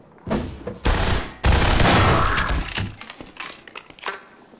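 Grenades exploding in Half-Life 2: Episode Two: a string of loud, close blasts with sharp onsets and ringing tails, followed by scattered crackling bangs that fade out.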